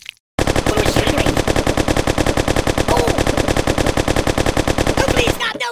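Rapid automatic gunfire from a weapon in the video game Kick The Buddy, a loud continuous burst of evenly spaced shots lasting about five seconds after a brief quiet start.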